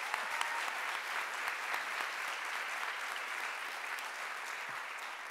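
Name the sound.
audience applause at university convocation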